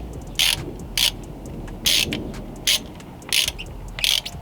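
Ratchet wrench clicking in short, sharp bursts while bolts are tightened on the AC lines of a 1995 Chevy C1500 pickup, about seven quick ratcheting pulses with brief pauses between, close up and alone.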